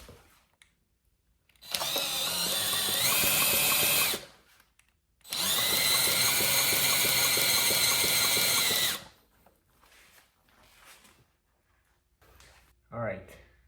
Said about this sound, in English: I can at least test for spark and compression with a drill